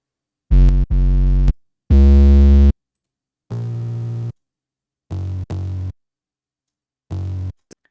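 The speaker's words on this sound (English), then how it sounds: "the high-end 808 is almost more like a synth, but it adds to the original 808 in a way that creates a more hyperpop sound" Heavily overdriven hyperpop-style 808 bass layered with a brighter synth-like high 808, played as several separate distorted booming notes with silent gaps between them, loud and alone.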